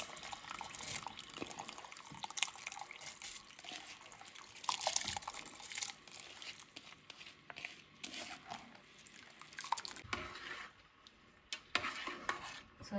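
Raw rice is tipped into a boiling pot of water for prawn dum biryani and stirred, giving close, irregular scraping, clinking and sloshing of grains and liquid over a quiet bubbling background.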